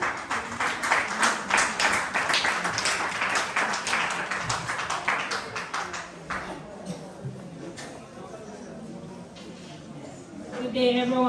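Audience applauding at a graduation ceremony, dense sustained clapping from a crowd that swells and then fades, with a voice speaking over it near the end.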